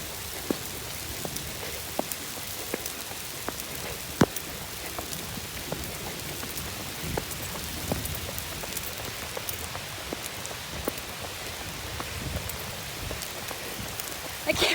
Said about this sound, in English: I can't believe it started raining